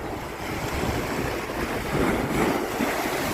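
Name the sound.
sea waves at high tide on Bang Saen beach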